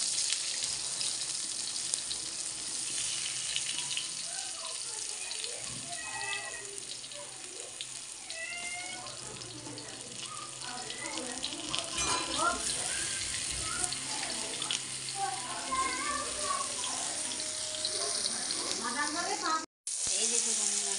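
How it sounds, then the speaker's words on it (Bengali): Pumpkin slices fry in oil in a kadai with a constant hissing sizzle close by, while voices and bright chirps come and go over it. "এই দেখো মানে কুমড়োটা ভাজা হয়েছে, কুমড়ো ভাজা দিচ্ছি।"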